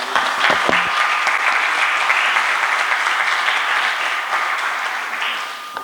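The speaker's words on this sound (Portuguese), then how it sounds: "Vamos dar uma salva de palmas para receber a nossa visitante." Sustained applause from a large church congregation at a Sunday service fills the room, steady and fairly loud throughout, with a few brief sounds at the very start.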